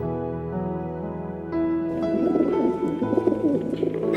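A white pigeon coos in a soft, rolling series, close and clear, over a low musical backing that grows busier partway through; no voices accompany it.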